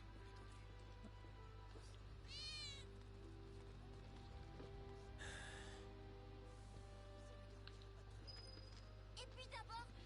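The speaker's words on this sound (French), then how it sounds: "t'as un miaulement de chat à l'instant?" Soft cat meows in Final Fantasy VII Remake sound a few times against a constant low hum, with faint rustling and brief breathy noises between them.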